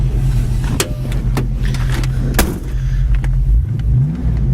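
A red 1967 Ford Mustang convertible sits idling with a steady, low, throbbing engine rumble, close and continuous, with faint clicks and shifts in the background.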